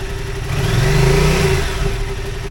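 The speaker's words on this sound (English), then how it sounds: "We all love motorcycles and the rumble they do." A Yamaha Tracer 700 motorcycle engine rumbles steadily nearby, swelling briefly as it revs up and then settling back, a low continuous throb with a faint whine above it.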